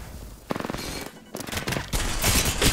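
Rapid automatic gunfire in the shooter Apex Legends, firing in several bursts of quick, evenly spaced cracks with short pauses between, loud and close throughout.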